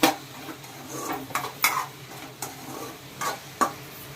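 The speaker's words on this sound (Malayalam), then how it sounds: "സവോളയും പച്ചമുളകും. നന്നായിട്ടൊന്ന് ഇളക്കി യോജിപ്പിക്കാം." Onion and green chillies are stirred in a pan while they fry, with a spoon scraping and clinking against the metal in irregular strokes over a steady soft sizzle, close by and without talk.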